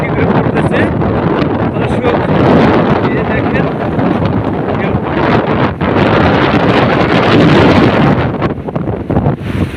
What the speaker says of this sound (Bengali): আর প্রচণ্ড বাতাস আর এই বাতাসের মধ্যে দেখেন